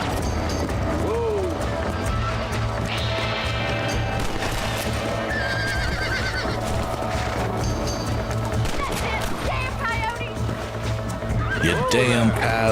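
In the Red Dead Redemption video game, a horse gallops with rapid clip-clopping hooves and lets out shrill neighs, loud and close over a constant game soundscape with talking throughout.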